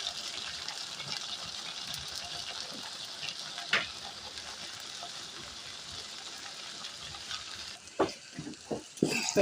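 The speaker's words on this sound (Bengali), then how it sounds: "এখানে আমি এখন তেলটা গরম হয়ে গেছে, পটলগুলো ছেড়ে দিব।" Pointed gourd (potol) pieces fry in hot mustard oil with a soft, steady sizzle, fairly faint and close. A few sharper clatters of stirring break in toward the end.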